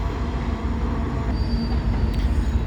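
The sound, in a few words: train passing by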